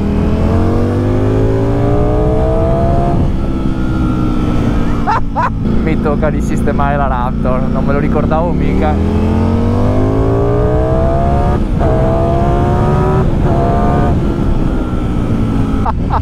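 Ducati Streetfighter V4 S motorcycle engine running loud and close, revs rising and falling in sweeping pitch changes across the ride, with a rider speaking over it throughout.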